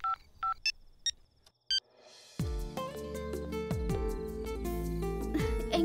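Phone keypad tones as a number is dialed, about six short separate beeps in quick sequence, then dramatic film music swells in underneath.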